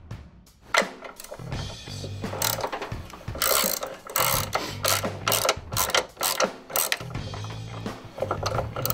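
A hand ratchet clicks rapidly in repeated bursts while loosening motor mount bolts on a 1990 Chevy Beretta, the close metallic pawl chatter starting and stopping with each swing, with occasional knocks of the tool.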